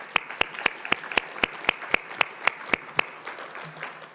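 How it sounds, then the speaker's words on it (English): Applause at a teen community MLK breakfast, a single pair of hands clapping close up in a quick, steady rhythm of about fifteen claps before stopping. "Please give a round of applause."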